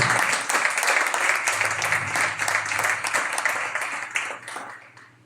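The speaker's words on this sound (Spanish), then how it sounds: "¿Qué tal si le das un aplauso a Dios en esta preciosa mañana?" A church congregation applauds during a morning service: dense, continuous clapping from many hands that holds steady, then thins and fades near the end.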